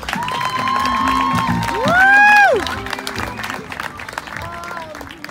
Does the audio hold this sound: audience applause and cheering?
yes